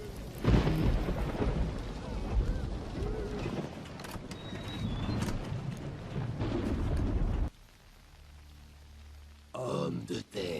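Heavy rain pouring with loud rumbling thunder for several seconds, then a sudden drop to quiet and a brief return of noise at the end.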